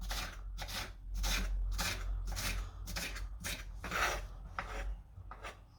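A knife dices bell peppers on a cutting board for sloppy joe, a quick series of about a dozen crisp, close chopping strikes in steady rhythm with no talking.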